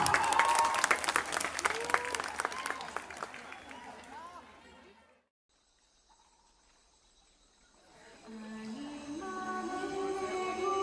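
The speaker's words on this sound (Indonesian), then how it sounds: "Beri tepuk tangan yang meriah." Applause from a school audience at a Bhinneka Tunggal Ika student performance, loud and busy at first, then dropping to near silence midway before music with a steady melody rises near the end.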